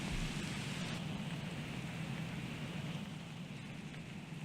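Steady video game rain hisses evenly with a soft low rumble underneath, a continuous wash of falling drops at moderate level with no voices.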